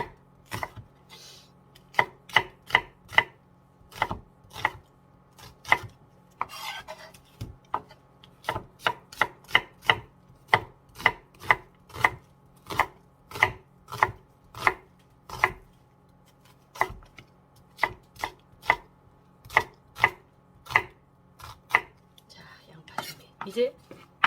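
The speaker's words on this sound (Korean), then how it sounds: "양파도 이렇게 좀 채를 썰을게요" A knife thinly slices onion into strips on a cutting board for carrot soup, a long steady run of crisp, close chopping strokes, sharp and evenly spaced, with no talk.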